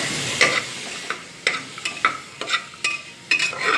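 Soaked kabuli chickpeas with green chillies stirred in a sizzling pan, a steady frying hiss punctuated by repeated sharp scrapes of a spatula at an irregular pace.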